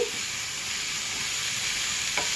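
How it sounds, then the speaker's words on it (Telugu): A spatula stirs dosa masala over a low flame, giving a continuous soft hiss of frying and one faint scrape near the end. "వీడియోలో చూపించిన విధంగా చూడండి ఫ్రెండ్స్ గెరెట్తో కలుపుకోవాలి."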